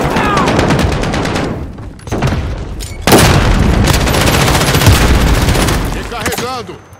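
Rapid bursts of video game gunfire crackle loudly and continuously, with booming shots and a brief lull before the shooting resumes.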